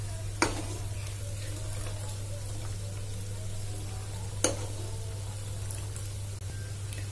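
Butter simmering in a pan as it turns into ghee gives a steady, close bubbling sizzle with a low hum underneath. Two sharp clicks of a utensil against the pan stand out, and nobody speaks.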